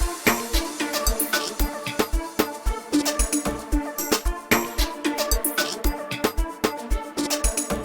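An E-Rail ARP arpeggio preset from Expand 2 sits inside a full amapiano beat: punchy log-drum kicks on a steady bouncing rhythm, crisp percussion and layered synth notes, mixed together loud and dense, with no talking.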